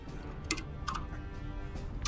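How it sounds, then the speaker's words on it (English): Light, sparse clicks of typing on a computer keyboard, a few separate keystrokes spread across a couple of seconds, fairly close and quiet over a soft room hum. "Jen's keyboard"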